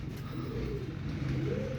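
A racing pigeon coos on arriving home from a race lap in Matnog: soft, low rolling coos repeated close by over a steady background hum.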